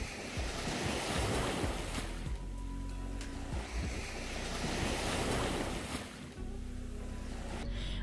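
Sea waves roll and break on a Crimean shore under heavy wind buffeting the microphone, a loud, steady wash of surf with no talk.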